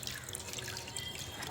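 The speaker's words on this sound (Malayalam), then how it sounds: "നമ്മളെ ബണ്ണീനെ വെച്ചിട്ട് വെള്ളം ഒഴിക്കാം." A small cup of water is poured over a pet rabbit during a bath, producing a soft, continuous trickling and dripping at close range, faint and steady, with no voices.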